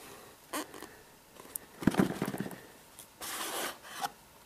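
Google Nexus 7 tablet box being opened after its tape is cut: soft rubbing and scraping of cardboard in short bursts, with a firmer rustle midway and a longer sliding scrape near the end, close and fairly quiet.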